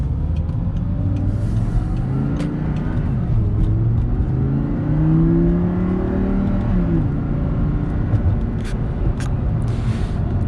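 An Audi R8 V10 accelerates through several gears, its engine note rising in pitch and dropping at each smooth upshift, heard from inside the cabin as a steady loud drone with no talking.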